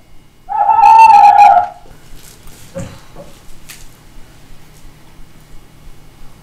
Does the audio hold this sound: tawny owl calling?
yes